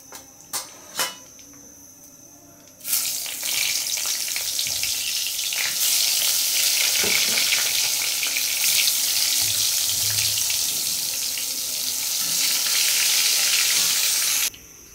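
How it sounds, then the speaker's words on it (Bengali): Eggplant pieces hit hot oil in a home kitchen and break into a loud, continuous sizzle that runs close and steady for about twelve seconds, after a few light clinks beforehand. "এই তেলের মধ্যেই বেগুনগুলো ভেজে রাখবো"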